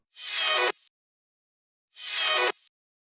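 A hardwave-style synth tail with its effects removed plays dry, two bright noisy bursts of under a second each separated by silence, fairly quiet and alone.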